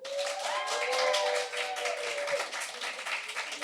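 Audience at a live podcast taping claps hands to vote, a broad, even patter of applause with a few cheers on top, moderately loud and sustained throughout.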